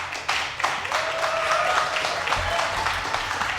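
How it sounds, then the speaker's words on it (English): Crowd applause and scattered cheering at a StarCraft 2 esports tournament, the WCS America 2014 Season 2 group stage, a steady wash of many hands clapping that fills the whole stretch with a faint whistle-like tone running through it. "almost forgot the awesome sound of the crowd cheering"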